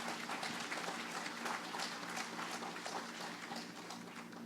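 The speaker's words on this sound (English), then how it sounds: "Please give them a round of applause." Applause at an opening ceremony for Lam Soon at Cyber Valley, a dense steady clapping from an audience that continues evenly throughout without pause.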